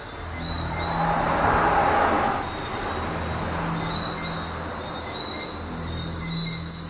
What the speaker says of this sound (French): Une voiture qui arrive et une moto au loin.